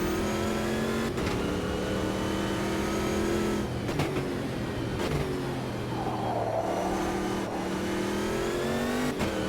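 A Copa Montana race car engine in the video game Automobilista 2 drones and revs steadily, with pitch rising and dropping through gear changes, loud and continuous with no talk.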